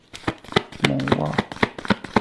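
Playing cards shuffled and drawn by hand during a tarot-style reading, with quick crisp flicks and slaps close up, while someone speaks French over them.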